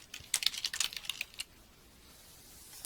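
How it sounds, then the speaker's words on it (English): Quick clicking keystrokes on a computer keyboard in a short, faint flurry lasting just over a second, then quiet room tone. "we're going to type in net income"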